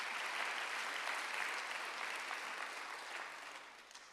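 A church congregation applauds during a Sunday worship service, a steady wash of clapping that holds for several seconds at moderate distance before slowly fading.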